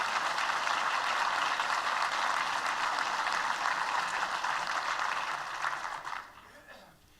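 A luncheon audience in a large room gives a round of applause, steady full clapping that holds for several seconds and then fades quickly away.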